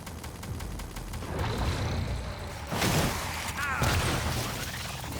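Automated turret gunfire in the sci-fi video game Prey (2017) rattles amid crashing and shattering impacts, growing louder with sharp bursts near the end over a constant background din.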